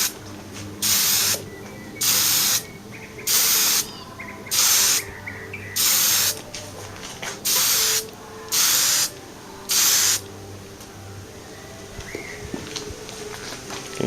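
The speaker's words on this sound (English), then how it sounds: "we're going to start to spray paint" Blue spray paint hissing from a spray can in nine short, even bursts about a second each, separated by brief pauses, close and clear with no talking.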